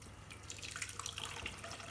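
Water trickles quietly into a small container on a water level indicator breadboard setup, a soft, faint pouring with light dripping splashes.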